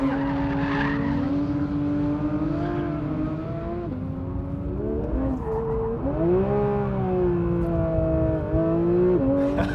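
A 2021 Porsche 911 GT3 (992) slides on track, its engine note rising and falling steadily while the tires skid and squeal through the drift, loud and close throughout.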